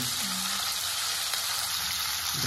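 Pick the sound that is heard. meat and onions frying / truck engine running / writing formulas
meat and onions frying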